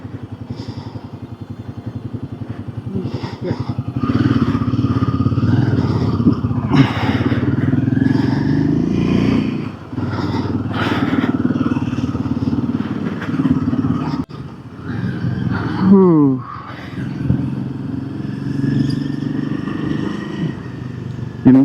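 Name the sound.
motorcycle riding from Leh to Pangong Lake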